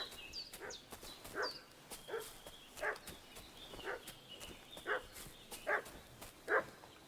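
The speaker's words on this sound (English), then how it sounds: "What's that dog making such a fuss about?" A dog barks repeatedly in Kingdom Come: Deliverance II, a regular series of about ten sharp barks roughly every half second to second, somewhat distant and faint against a quiet outdoor ambience.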